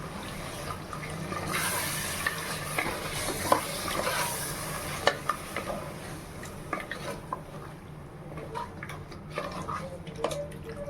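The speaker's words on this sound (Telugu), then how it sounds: "ఏదైతే మనం మటన్ వేసుకున్నామో ఒకసారి కలిపేసుకొని" Mutton being stirred in a pot for donne biryani, with a soft sizzle and wet scraping swishes, occasional utensil clinks against the pot, steady and close at moderate volume.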